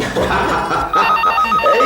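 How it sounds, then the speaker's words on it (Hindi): A telephone rings in a domestic drama scene, with repeated trilling bell rings running through the clip over some background sound and brief voices. "किसका फोन है?"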